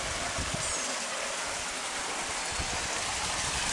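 Water runs steadily from a spring-fed channel past old stone washing basins toward a river, a continuous close rushing wash with no voices.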